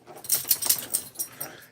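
A nine-year-old dog raised from a puppy makes a run of soft whimpers, yips and breathy wheezes up close, uneven bursts with no talking.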